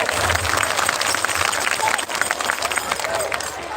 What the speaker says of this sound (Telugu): ఒకసారి అందరూ గట్టిగా చప్పట్లతో పిల్లల్ని ఆశీర్వదిద్దాం